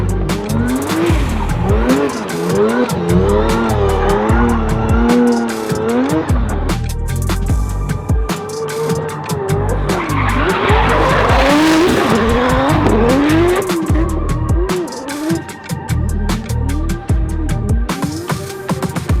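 Drift cars at a Driftmasters Italia event, their engines revving and bouncing off the limiter while tires squeal and skid continuously, loud and sustained with the crowd and track noise behind.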